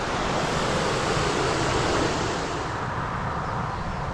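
A local river flows over stone weirs beside a road in a valley, a steady full roar of rushing water that holds even and continuous throughout, with no voices.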